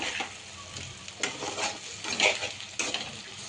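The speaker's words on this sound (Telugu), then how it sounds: "స్టవ్ని సిమ్ చేసుకుంటూ ఫ్రై చేసుకుంటూ కలుపుకోవాలి" Vegetables for veg noodles sizzle in hot oil in a pan over a low flame, with a steady frying hiss and repeated scraping strokes as they are stirred close by.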